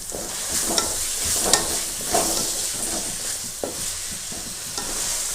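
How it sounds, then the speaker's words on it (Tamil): Ground tomato stirred into ginger garlic frying in a pan for an egg curry gravy, a steady close sizzle with soft scraping stirs and occasional clicks, no talk. "மூணு தக்காளி அரைஞ்சி வச்சுருக்கேன் அதையும் சேர்த்து நல்லா கிளறி விட்டுக்கலாங்க"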